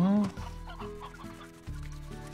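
Chickens cluck in the video game Slime Rancher, with a brief higher call at the start, then a steady bed of game music and ambience that keeps the clucking faint.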